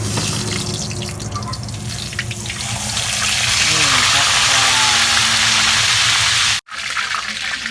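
Tilapia frying in a pan of hot oil gives a steady, loud broadband hiss and crackle that runs continuously throughout, with a brief cut near the end.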